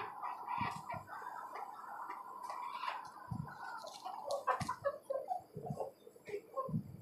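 Desi hens clucking in a cage coop used for brooding tiger chicken chicks, repeated close clucks and murmuring calls in an uneven rhythm, moderately loud with no talk.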